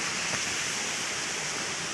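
A river rushes and flows in a steady, dense wash of water noise, loud and unbroken, with no voices over it.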